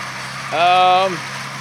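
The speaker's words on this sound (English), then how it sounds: "He's actually driving this tractor down these roads." A John Deere 8285R tractor pulling a KMC six-row peanut inverter hums steadily in the background on a farm, with a voice briefly rising over the engine.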